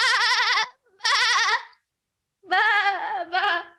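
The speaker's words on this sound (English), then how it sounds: "The closed captioning should be sounds of sheep retreating" A sheep bleats loudly and up close in four wavering calls, two short ones followed by a pause and then two more, with near silence between them.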